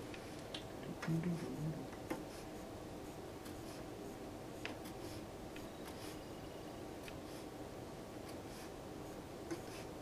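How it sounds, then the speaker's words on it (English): A pencil scratches small marks onto a piece of wood, faint dry ticks and short scrapes scattered over a quiet room background, close and soft, with no talking. "And just make a little mark with our pencil."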